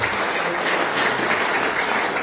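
A church congregation claps in praise during a sermon, a dense, steady wash of many hands filling the space, loud and continuous with no talk over it.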